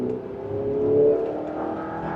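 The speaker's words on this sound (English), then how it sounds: "So now I can drop it into 2nd gear, and here we go with a slight acceleration" A 2026 Chevrolet Traverse Z71 AWD accelerates gently in second gear, heard from inside the cabin. The engine hums as a soft, smooth rising whir that swells a little midway and then levels off.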